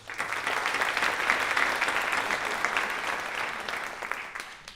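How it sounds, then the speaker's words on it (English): Steady audience applause at a high school senior awards ceremony, a dense wash of many hands clapping continuously at moderate volume, fading slightly toward the end. "Round of applause."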